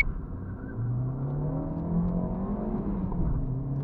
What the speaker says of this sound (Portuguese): ele tá cantando muito pneu, não pode acelerar muito